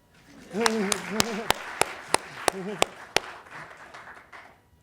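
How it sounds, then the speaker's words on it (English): A small conference audience claps after a talk on religion in public life, around ten distinct claps at a steady rhythm as a voice speaks over them, then fading. "We're going to applaud you now."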